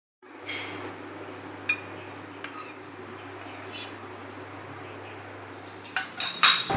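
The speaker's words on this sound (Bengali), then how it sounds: "আর আমার রান্নাঘরে কিছু বাসন ছিল, সেগুলো এখন আমি ধুয়ে নিচ্ছি" Dishes and pots being washed in a home kitchen, with scattered clinks and knocks of utensils over a steady background of running water, close and alone with no talk.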